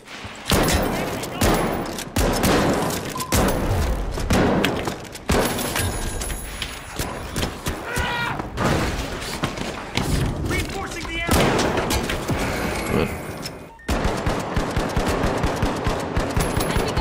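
KS-23 shotgun blasts in a video game boom repeatedly in heavy, closely spaced shots, loud and near, mixed with other battle noise.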